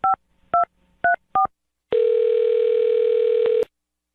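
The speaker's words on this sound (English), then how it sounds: "I'm going to dial her phone number right now," Four short two-tone beeps from a phone keypad, evenly spaced, then a steady dial-like tone holding for nearly two seconds before cutting off.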